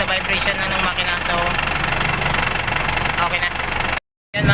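An Isuzu 4BE1 diesel engine idles after a cylinder head gasket replacement, a steady close, rough clattering run with a knocking edge, then a brief cut to silence before it resumes.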